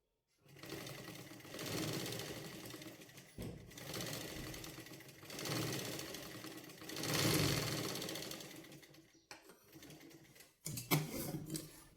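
A sewing machine stitches a sleeve seam in several bursts, its fast rattling whir rising and stopping between runs, with brief pauses and a few clicks near the end.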